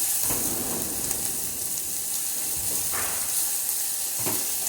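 Onions sautéing in a pan, a constant loud hiss of frying with a few soft stirring scrapes, heard close and without speech.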